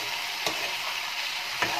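Spices including coriander powder and fish masala fry and get stirred in a pan for drumstick fish curry, a steady close sizzle broken by two soft stirring scrapes.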